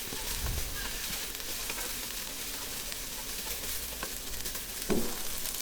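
Mint leaves sauté in a hot pan for mint chutney, giving a continuous close sizzle with soft stirring scrapes and a brief louder clatter near the end.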